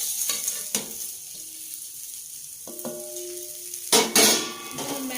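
Peas and flattened rice (chuda) fry in a pan with a hissing sizzle, punctuated by a few clanks and scrapes of a utensil against the pan and a louder burst of frying near the end.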